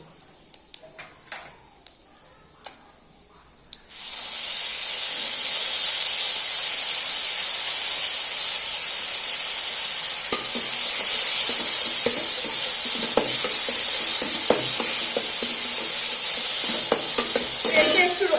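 Garlic paste and spices frying in hot oil with dried red chillies, a loud steady sizzle that starts suddenly after a few soft kitchen taps and holds for a long stretch, with occasional stirring knocks.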